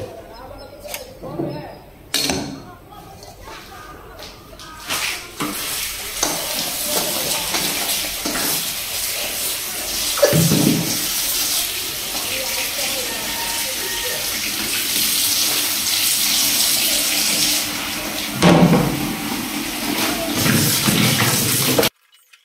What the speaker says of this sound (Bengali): লাউটা ধুয়ে নিতে হবে।